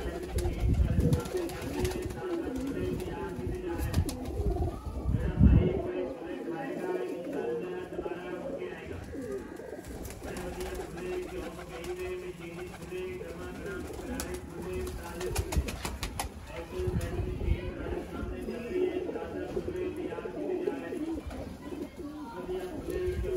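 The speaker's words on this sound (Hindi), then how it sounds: "दोस्तों प्योर टैडी कबूतर" Teddy pigeons coo in low, rolling bursts through the whole stretch, steady and fairly close, with a voice talking over them at times.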